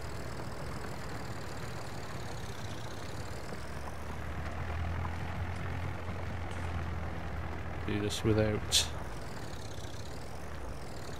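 A farm tractor engine runs while ploughing, a steady low rumble with a constant drone and a few brief voices near the end.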